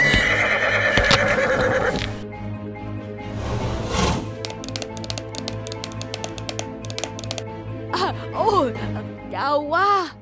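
A cartoon horse struggling up a steep slope into a headwind gives loud whinnies with rising and falling pitch, while its hooves clip-clop in a quick, even run of clicks.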